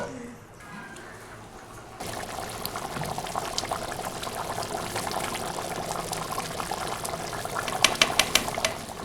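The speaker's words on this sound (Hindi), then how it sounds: "अब हम इसे बॉईल होने देंगे।" Rice and water in a pot for beef pulao bubble and simmer, starting quiet and then rising to a steady, lively boil with popping bursts near the end.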